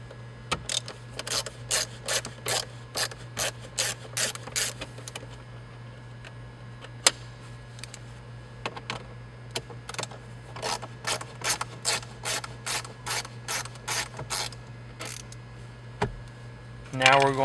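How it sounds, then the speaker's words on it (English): Two screws being backed out of a 2011-2015 Hyundai Elantra center console, a long run of rapid close ratchet-like clicks in quick bursts with brief pauses, moderately loud, no talking. "Now we're taking out these two screws right here."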